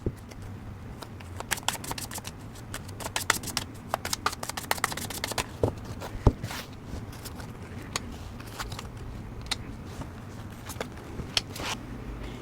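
Tarot cards are shuffled, tapped and laid out on a table close up, with dense bursts of papery flicking early on, then scattered sliding and placing sounds.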